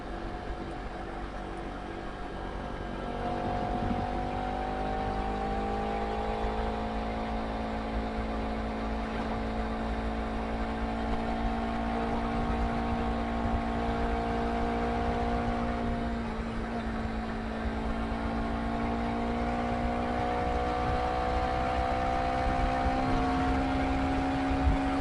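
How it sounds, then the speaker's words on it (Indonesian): A motorcycle engine drones on a night ride in Tretes, with a steady, continuous hum whose pitch rises and falls gently with speed over a constant road and wind rush, close and moderately loud with no voices. "Oke, ada sepeda motor, hati-hati."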